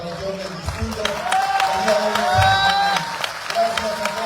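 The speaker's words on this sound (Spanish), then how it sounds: "pido un fuerte aplauso para todos ustedes, vecinas, vecinos de la región del distrito" Audience applause at a book presentation, a broad wash of clapping and crowd noise from a gathered audience, steady throughout with voices mixed in.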